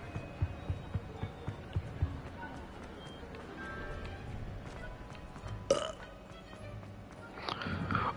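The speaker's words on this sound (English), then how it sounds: "Oh, it's because of the Polyjuice potion that he's burping." A character burps after drinking Polyjuice potion in the Hogwarts Legacy video game: a short, loud, close eructation over game music and ambience, with a second burst near the end.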